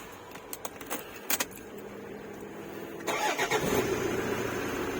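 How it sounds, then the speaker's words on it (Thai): A Toyota Fortuner with an immobilizer system is started using a newly programmed remote key: a few sharp key clicks and jangles, then the engine cranks, catches and settles into a steady close idle. "สตาร์ติดสมบูรณ์ร้อยเปอร์เซ็นต์นะครับดอกใหม่ที่เราโปรแกรม"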